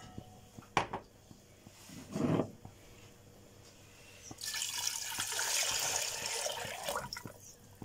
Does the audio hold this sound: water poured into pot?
yes